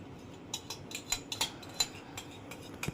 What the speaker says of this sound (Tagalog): So, mag-mix na tayo karon.